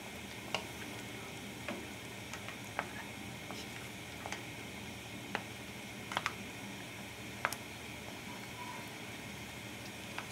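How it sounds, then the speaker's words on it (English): A pot of fish and seafood stew with mussels and snails simmers on the stove, a faint, steady hiss with scattered tiny pops and ticks from bubbling broth. "Bring it to a boil, let it simmer for a couple of minutes"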